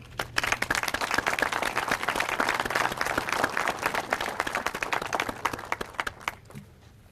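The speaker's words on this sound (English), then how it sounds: "I think that we should give our honor guard a round of applause" A crowd at a groundbreaking ceremony for a safety center gives the honor guard a round of applause, steady dense clapping that holds for several seconds before thinning out at the end.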